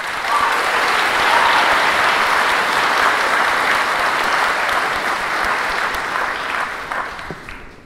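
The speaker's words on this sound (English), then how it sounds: "Please welcome me in applauding all of these people that are credited for my success" A graduation ceremony audience applauds in a loud, steady, dense wash of clapping that holds evenly before thinning out toward the end.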